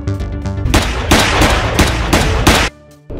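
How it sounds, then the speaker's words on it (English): A Glock pistol fires rapid loud gunshots in a cartoon battle, several blasts in quick succession over about two and a half seconds, then a sudden drop to quiet. "My Glock disagrees with that."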